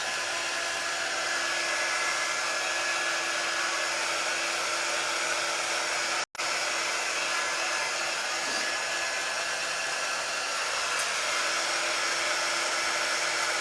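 A hair dryer blows steadily and loudly at close range, drying paint on a flat craft surface, with one brief cutout midway before the continuous whir resumes.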